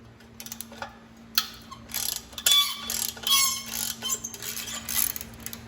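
Ratchet wrench turning a 10mm bolt on the V-band clamp of a Fiat 500 Abarth turbo exhaust, a close series of quick clicking bursts with short pauses, no talking.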